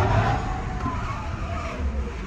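Simulated supersonic-mode engine sound from a Hyundai Ioniq 5 N electric car, a steady, dense synthetic roar that holds loud and even throughout.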